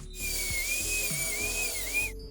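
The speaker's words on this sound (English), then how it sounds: "The good old Dremel, guys, can't go wrong. Gives you a clean cut" A Dremel rotary tool cuts through model train rails with a high, sustained whine that wavers slightly in pitch, running alone for about two seconds at moderate volume.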